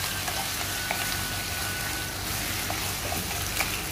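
Spinach stir-frying in a pan with about a tablespoon of balsamic vinegar, giving a steady close sizzle with faint scattered clicks of stirring throughout.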